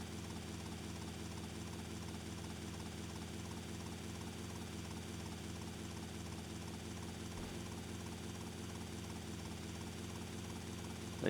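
Helicopter in GTA Vice City Definitive Edition flying steadily, a continuous loud rotor and engine drone with no breaks and no talk.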